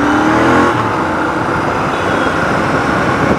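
A Royal Enfield Continental GT 650 motorcycle at speed, with a steady, loud engine drone and rushing wind and road noise throughout.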